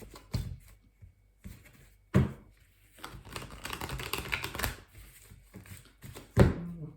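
Oracle cards being cut and handled on a table, a series of soft taps, riffling rustles and a few sharp thuds, close and quiet with no talking.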